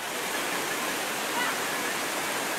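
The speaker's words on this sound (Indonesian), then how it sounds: "Jadi sungai ini berhulu di pegunungan Argopuro" Steady rushing of a river stream flowing down from the Argopuro mountains into a natural swimming pool near Bangalsari, Jember; a continuous, loud broadband wash of water with no voices.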